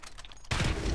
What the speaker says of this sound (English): Come on, use your grenade launcher again.